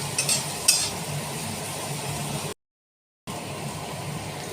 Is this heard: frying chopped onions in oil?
yes